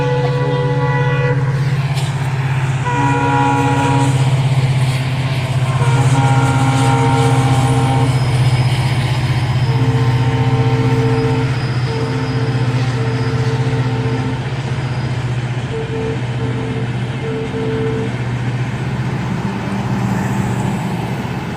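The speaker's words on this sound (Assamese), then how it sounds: "ৰাতিপুৱা যোৱা ট্ৰেইনখন পাৰ হৈ গ'লত আকৌ আগবাঢ়োঁ বুলি ভাবিছোঁ।" A morning train runs past a tea garden, a loud continuous rumble of wheels and wagons with several blasts of the horn repeating through the passage, close by and alone with no talk.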